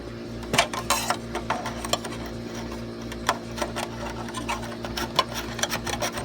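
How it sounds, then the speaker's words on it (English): A light bulb screwed into an LED fish tank light fitting gives close, dry clicking and grinding ratchet-like turns, repeated in small irregular bursts over a steady low hum. "Screwing in a light bulb."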